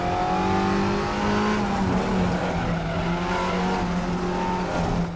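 A front-wheel-drive race car in the Raceroom racing game, its engine droning loudly at high revs, climbing and dipping in pitch through gear changes, with faint tire scrub and no talk over it.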